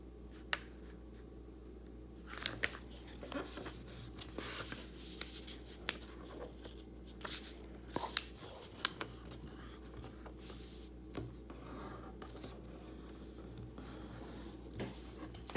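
Soft, close rustling and creasing of printer paper, intermittent and quiet, as a sheet is folded in half and pressed flat.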